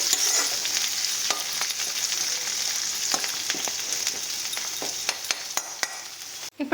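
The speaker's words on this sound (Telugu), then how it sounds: "చూడండి ఉల్లిపాయలు అయితే మంచిగా వేగిపోయినాయి కదా" Onions with curry leaves and green chillies sizzle steadily in a hot pan, with light clicks and scrapes of stirring scattered throughout and a few sharper knocks near the end.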